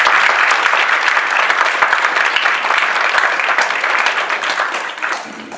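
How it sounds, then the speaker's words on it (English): Loud audience applause at a Bharatanatyam Arangetram, a dense continuous wash of many hands clapping that carries steadily throughout and eases off slightly near the end. "A big round of applause for Anand."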